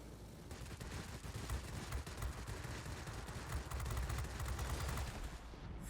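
Continuous machine-gun fire from an XP-36F fighter in World of Warplanes, a dense, steady rattling burst running the whole time at moderate loudness with no talking.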